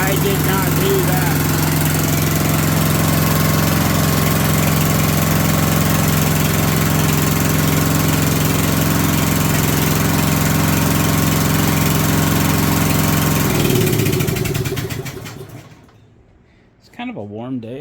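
An old Snapper rear-engine riding mower with a 12 HP Briggs & Stratton flathead engine runs with a steady, loud idle drone, then cuts off and winds down, leaving near silence followed by a faint clunk.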